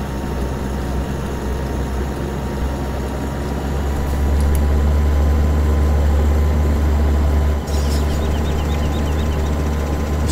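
A Fendt 933 tractor engine in Farming Simulator 2015 hums in a steady, low drone while driving, growing a little louder and heavier partway through as it pulls along.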